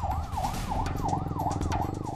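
Ambulance siren on a traffic-filled highway, a continuous wailing yelp rising and falling in quick regular cycles, close and loud over the rumble of engines and road noise.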